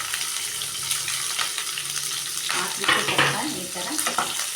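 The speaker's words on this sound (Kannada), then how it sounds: "ಫ್ರೈ ಮಾಡ್ಕೊಳ್ಳೋಣ ಸ್ವಲ್ಪ ಬ್ರೌನ್ ಕಲರ್ ಆಗುವವರೆಗೂ" Chopped onion and green chillies fry in a pan for a pumpkin dish, giving a steady, close sizzle with occasional stirring scrapes and clatter.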